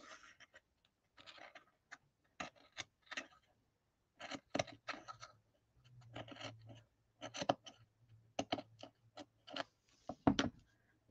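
Scissors cutting paper for lace envelopes, quiet close snips and rustles in irregular clusters, with faint handling noise between cuts.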